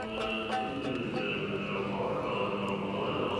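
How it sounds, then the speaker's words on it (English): Ritual chanting during a ceremony at a Buddhist temple in Elista, Kalmykia, a dense continuous murmur of voices with faint percussive accents, steady and moderately loud. "or ritual chanting in the temple."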